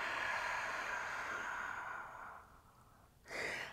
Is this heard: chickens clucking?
no